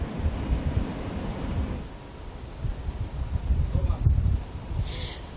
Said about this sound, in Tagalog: makikita nyo yung malakas na alon ngayon.